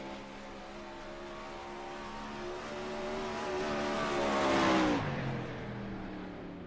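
A 410 winged sprint car on a flying qualifying lap at Knoxville, its engine droning at a distance and swelling louder as it passes close, then cutting away sharply as it moves off.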